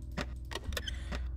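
Metallic jingle of keys being picked up in the stealth game Thief 2: a few quick, bright chiming bursts spaced across a second and a half, close and clear over a low steady background hum.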